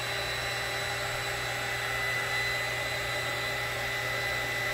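Air blower used on freshly poured resin paint, a loud, steady, close whirring rush of air with a constant motor hum that holds throughout, no talking.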